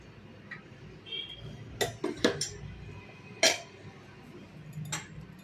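A large metal kadai clanks onto the stove in a few sharp knocks and scrapes against a quiet background, with faint tapping between them.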